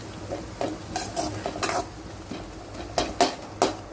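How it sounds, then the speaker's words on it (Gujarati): Cabbage stir-fried in hot oil in a pan, with scattered scraping and clinking of a spatula against the pan and a soft sizzle underneath, in short bursts with no talking. "તેલ ગરમ થઈ ગયું છે। હવે આપણે અંદર કોબીજ નાખીશું। કોબીજને અધકચરી શેકી લઈશું।"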